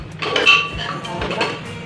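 Pots, pans and a kadhai being washed by hand at a home kitchen sink, with close, irregular metallic clinks and clatters over running-water hiss across a couple of seconds.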